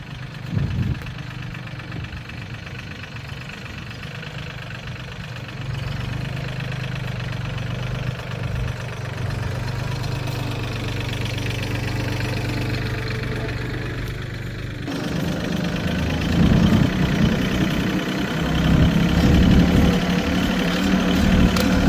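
Truck engine running steadily while driving through a timber yard toward a log pile, a continuous low rumble that grows louder and rougher partway through, no talk over it.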